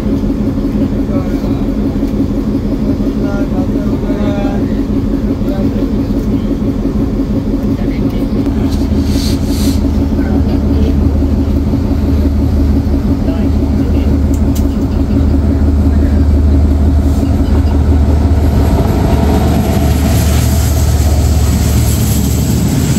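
A passenger train, the Dhalarchar Express, crosses another train on a double line, giving a continuous loud low rumble and rolling hum that grows heavier partway through, with people talking over it.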